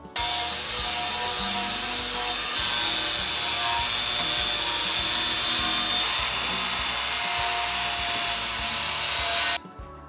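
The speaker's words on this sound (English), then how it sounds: "So we have to go back with the grinder now." An angle grinder strips the original paint from the underside of a Unimog's roof gutter, a loud, steady abrasive rasp with scraping texture lasting nearly the whole stretch before it cuts off abruptly.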